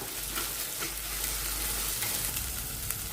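Ginger garlic paste sautés in a hot pan with a steady, close sizzle and occasional scraping stirs, quiet and continuous with no voices.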